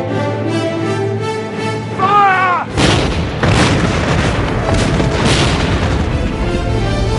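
A ship's broadside cannon salvo booms out in a heavy, rumbling volley of blasts that rolls on for several seconds after a tonal musical lead-in, loud and close.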